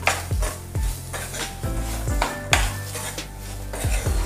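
Freshly grated coconut stirred and sautéed in a pan of roasting semolina for upma: repeated loud scrapes and knocks of a spoon against the pan over a steady sizzle, in a fairly regular rhythm, with no voices.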